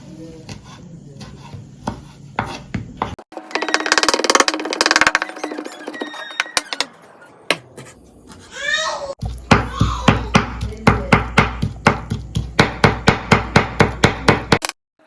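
Raw prawns being chopped finely with a knife on a board, a fast run of loud, close, regular blade strikes, with scraping and clatter before it.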